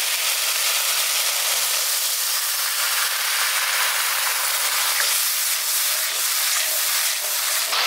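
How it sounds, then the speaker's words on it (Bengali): Water hits hot frying spice paste for a village-style South Asian carp curry, giving a loud, steady sizzling hiss that fills the whole stretch with no voices. "এবার এর মধ্যে আমি জল দিয়ে দিচ্ছি।"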